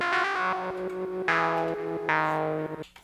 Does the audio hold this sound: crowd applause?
no